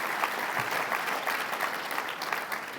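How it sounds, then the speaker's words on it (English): Sustained applause from a large audience at a hall of fame dinner, dense steady clapping throughout, close and full. "So please give them a great big round of applause"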